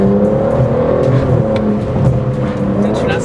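An Aston Martin DBS Superleggera's engine drones loud and close with a steady, deep, humming note from inside the car, while people talk over it.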